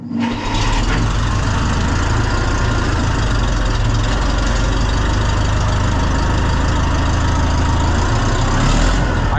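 A John Deere 2020 tractor engine runs with a loud, steady, rumbling idle close by, continuous throughout with no talk.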